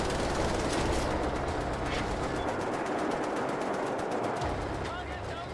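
A heavy rapid-fire gun blazing away in the Wolfenstein: The New Order video game, a dense continuous rattle of shots that holds loud for several seconds before easing slightly, with a voice faintly beneath it.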